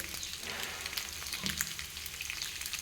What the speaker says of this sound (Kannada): ಇದನ್ನೇ ಸ್ವಲ್ಪ ಎರಡು ಸೈಡ್ ಕಾಯಿಸ್ಕೊಳ್ಳೋದು